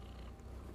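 A female cat purrs right up against a seated person indoors, a soft, low, continuous rumble that is close but quiet, with no talking.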